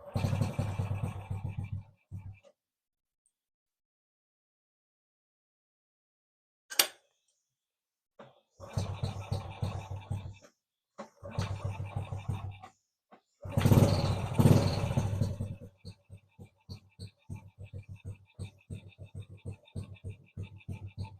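A motorcycle engine is started for an idle test during a carburetor check, with an uneven idle. It runs in loud bursts that cut out and restart, then settles into a rapid, sputtering putter.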